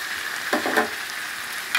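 Spices, salt, turmeric and chilli, are stirred into radish chicken curry in a pan, a constant close sizzle with a few quick scraping stirs, no talking.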